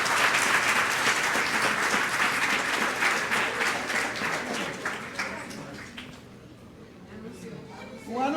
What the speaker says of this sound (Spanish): Padre Terry, tú, es un aplauso.